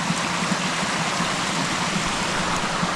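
A creek by a Vermont cabin in October flows with a constant, close rushing and burbling of water, steady and unbroken throughout.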